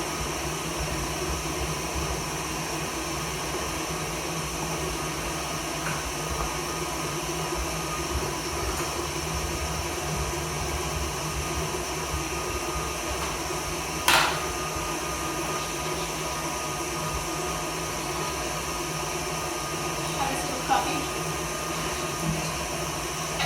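A handheld electric mixer beats butter for a Victoria sponge, giving a continuous, fairly loud motor drone that stays even for the whole stretch, with a couple of brief clatters.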